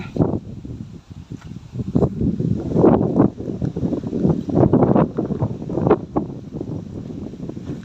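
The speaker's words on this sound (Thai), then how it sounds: "ลมพัด" Wind gusts across open rice fields in the countryside, a steady rough rushing that swells and buffets the microphone throughout, with no talking.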